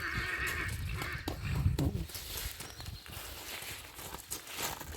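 A Percheron mare snorts and shifts close by, with hoof thuds and rustling, and a brief whinny-like sound rising amid general stable noise.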